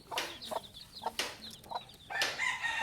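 A protective mother hen with chicks clucks in short, sharp bursts, several close calls in quick succession, fairly loud with some outdoor background.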